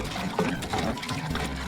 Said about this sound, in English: We're filling up the tank with water.